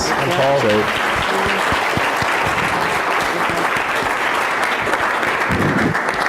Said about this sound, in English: I'd like to give a round of applause to our panelists